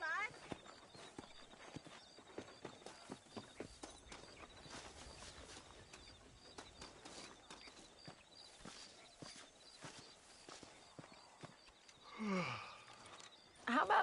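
Horse hooves clip-clop steadily in Red Dead Redemption as a rider travels along, a rhythmic run of close hoofbeats over a low ambient bed, with a brief voice sound near the end.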